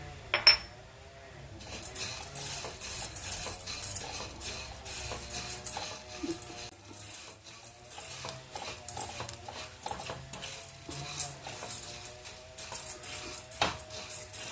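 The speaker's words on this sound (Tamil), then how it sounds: "இதில் தேவையான அளவு உப்பும் வத்தல் பொடியும் போட்டு மிக்ஸ் பண்ணிடுங்க" A spoon stirring salt and chilli powder into a freshly fried gram-flour-free kara boondi snack in a metal vessel, with repeated scraping and clinking strokes in an irregular rhythm, close and fairly clear.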